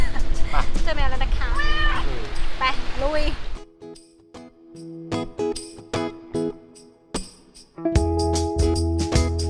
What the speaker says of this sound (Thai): เจอแมวแล้วทุกคนเจอแมว